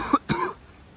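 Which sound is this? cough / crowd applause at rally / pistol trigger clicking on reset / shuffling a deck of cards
cough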